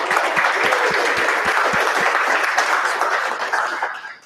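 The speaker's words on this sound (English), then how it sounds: "give one more hand for Jake" Audience applause at a 1 Million Cups Little Rock startup presentation event, a loud, dense burst of many hands clapping close by that holds steady and then fades out after about four seconds.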